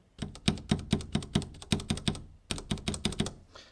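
Close-up clicking of Cherry MX Red mechanical keyboard switches being pressed in a quick, irregular run of taps, with a brief pause partway through.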